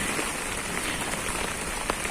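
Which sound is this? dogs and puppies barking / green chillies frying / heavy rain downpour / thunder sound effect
heavy rain downpour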